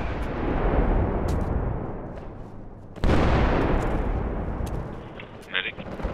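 Artillery fire in the military shooter Project Reality: rumbling battlefield noise, then one sudden, heavy blast halfway through that slowly decays, with further smaller reports and people talking over it.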